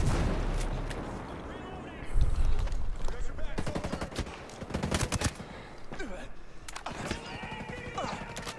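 Gunfire aimed at the player in Ghost Recon Breakpoint: rapid bursts and sharp single shots come in clusters, loud and close, with a horse whinny and hoofbeats mixed in.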